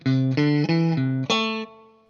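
An electric guitar with distortion and effects plays a short blues riff, a handful of sustained, gritty notes in quick succession, loud and alone.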